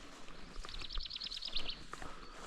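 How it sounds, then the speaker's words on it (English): Bright, rapid chirping from small birds in a quick run of high notes, moderately close, over a soft outdoor background with no voices. "just tweeting birds now and again"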